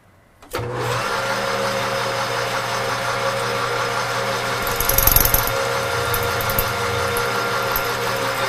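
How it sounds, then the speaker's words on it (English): A drill boring a hole to be tapped for a 1/4-20 thread runs as a steady, loud mechanical whine, starting abruptly after a short quiet moment and holding on with a brief louder surge near the middle. "now we're going to drill that out and tap it for the 1/4-20."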